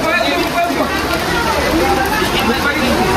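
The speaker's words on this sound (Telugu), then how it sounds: "మళ్ళా పడుతుంది వర్షం స్టార్ట్ అయింది మళ్ళా" Rain starts falling again outdoors in the evening and makes a dense, steady patter and hiss close by. Voices murmur underneath it.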